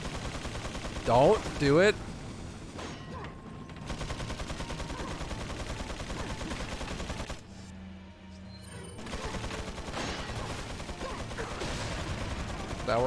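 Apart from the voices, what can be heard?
Gatling gun firing in Resident Evil 4 video game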